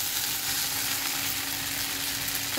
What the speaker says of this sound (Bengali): হালকা হাতে ভালো করে কিন্তু নাড়াচাড়া করতে হবে সাবুগুলোকে